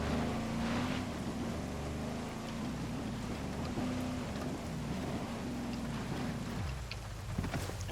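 Vehicle being driven in the game Ghost Recon Breakpoint, a steady low engine rumble with a constant drone that drops away near the end, heard without talk.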